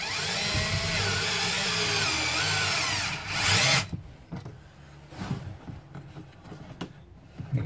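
A power drill whines as it drives hinge screws into a Keter plastic storage shed, a loud continuous run of about four seconds that stops abruptly, followed by quieter handling clatter.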